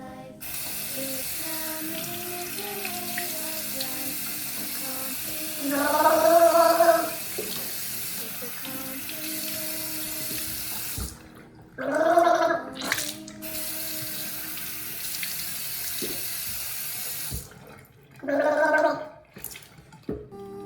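Mouth rinsing and gargling with water during wudu ablution, three separate bubbling gargles spaced several seconds apart, close and clear over a quiet background hum.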